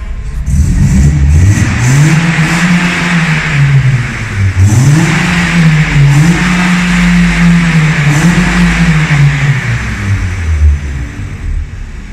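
A freshly repaired car engine with no oil burning runs close and loud, revving up and down in several smooth swells over a steady idle.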